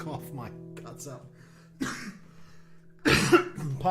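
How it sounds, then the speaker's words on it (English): A person coughs during a live music stream, two harsh hacking bursts spaced apart between stretches of speech. "Excuse me while I cough my guts up."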